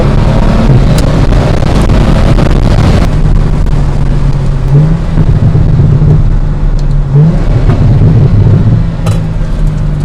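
A Morgan Plus Six first edition sports car engine hums steadily at close range with a rising and falling tone as it cruises without throttle, accompanied by road and wind noise, no voices.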